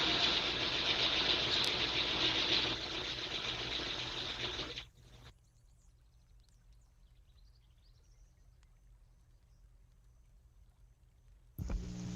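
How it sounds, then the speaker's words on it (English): A sewing machine stitches in a dining area off to the side, a steady mechanical whir for about five seconds before stopping, then a brief burst again near the end. "my wife was doing some stitching over in the dining area"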